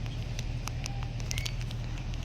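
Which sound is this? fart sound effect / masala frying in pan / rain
rain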